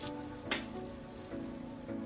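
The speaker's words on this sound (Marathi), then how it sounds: "बटर थोडंसं वितळलं की आपल्याला हे अंड्याचं बॅटर इथं टाकून घ्यायचंय" Egg batter for a street-style bread omelette sizzling in melted butter on a hot griddle, a faint, steady frying hiss with a brief louder crackle early on.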